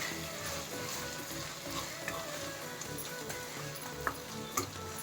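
Prawn curry with kasuri methi, ginger-garlic paste, onions and tomatoes frying and being stirred in a pan, a steady low sizzle with a few faint clicks of the spoon.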